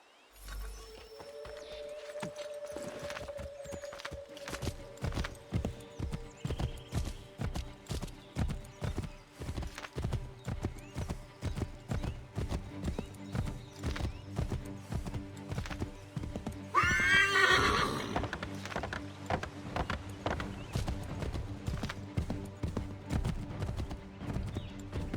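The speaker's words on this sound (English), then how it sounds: "Take my horse!" Steady rhythmic hoofbeats of a galloping horse in Assassin's Creed 3 Remastered clop on for a long stretch, with a loud whinny breaking in midway; stylized, game-like sound effects.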